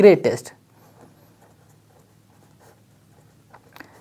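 A teacher speaks briefly, then soft, faint strokes of writing on a board follow during a maths class, sparse and scratchy in a quiet room.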